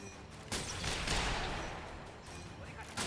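Sniper gunfire in a Batman video game, with a few sharp cracks spaced about half a second to two seconds apart over a dense, noisy action backdrop.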